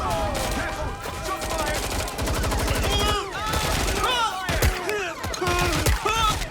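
Rapid bursts of gunfire and explosions from the action game Watch Dogs: Legion, dense and continuous, with shifting electronic tones layered over them.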